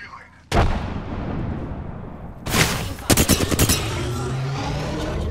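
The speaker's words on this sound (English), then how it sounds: "Got a bogey. Throwing frag." Frag grenade blast and gunfire in the Apex Legends video game, a sudden loud explosion followed by a second boom and a rapid burst of shots, with a rumbling tail.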